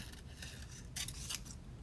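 Scissors snip through paper in a few faint, close, brief cuts over quiet background hiss.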